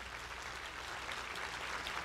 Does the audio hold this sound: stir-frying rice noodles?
no